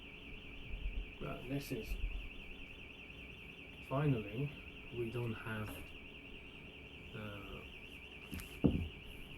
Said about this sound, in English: Someone had a problem with the car. The alarm went off.